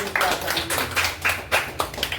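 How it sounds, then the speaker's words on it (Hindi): Scattered claps from an audience at a presentation in Navi Mumbai, a handful of separate hand strikes spread unevenly over a couple of seconds, moderately close, with no talking over them. "एक जोरदार ताली"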